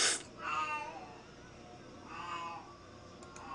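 A cat meows twice, fairly close and moderately loud, with drawn-out plaintive cries separated by a short quiet gap.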